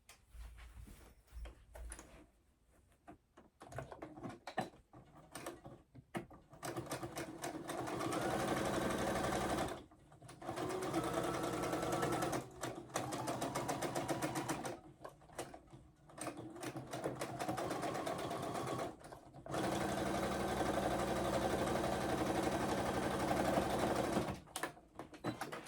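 A sewing machine stitches fabric to tack it down, running in long loud steady bursts with short pauses between seams and no talk.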